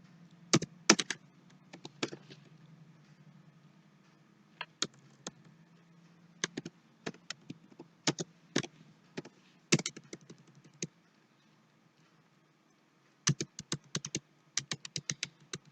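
Sharp keystrokes on a computer keyboard, with Enter pressed repeatedly while saving entries in accounting software, arrive in quick clusters separated by pauses, close and clear against a quiet background, no voices.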